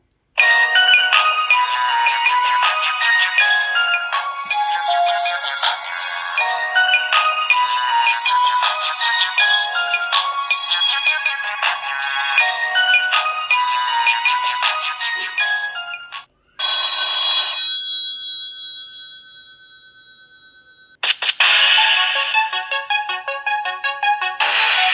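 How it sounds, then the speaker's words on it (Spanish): Built-in ringtones from a Sony Ericsson Walkman Spiro W100 phone play one after another: a busy melodic tone, a brief pause, a sustained beeping tone, then another bright melody, all loud and clear. "encontramos algunos tonos. Ya que son pocos, te los voy a poner a sonar."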